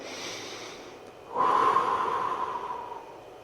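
A slow, deep breath during a yoga pose, at first a faint airy inhale, then after about a second a louder, rushing nasal exhale that carries on to the end, close and alone.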